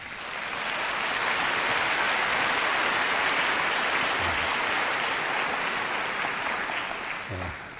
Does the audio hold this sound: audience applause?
yes